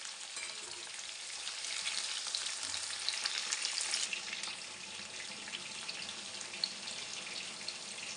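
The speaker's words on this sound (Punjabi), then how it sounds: "ਇਹਨਾਂ ਨੂੰ ਉਨੀ ਦੇਰ ਤੱਕ ਆਪਾਂ ਪਕਾਉਂਦੇ ਰਹਾਂਗੇ ਜਿੰਨੀ ਦੇਰ ਤੱਕ ਆਪਣੇ ਬੈਂਗਣ ਫਰਾਈ ਨਹੀਂ ਹੋ ਜਾਂਦੇ" Eggplant pieces frying in hot oil at home, a steady dense sizzle and crackle that carries on without a break, fairly close and with no talking.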